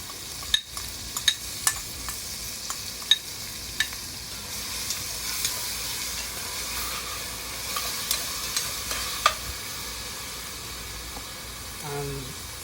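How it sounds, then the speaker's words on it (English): Chopped onion fries in a pan at home, browning in hot oil with a soft, steady sizzle. Occasional clinks and stirring scrapes sound over it, and a few voiced sounds come near the end. "I'm frying my onion a little, so it gets a little brown."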